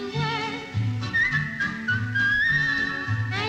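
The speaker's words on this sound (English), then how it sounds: "Just whistle while you" A human whistles a cheerful tune at moderate loudness with clear sustained melodic pitches over musical accompaniment with low, steady tones.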